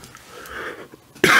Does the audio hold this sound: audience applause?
no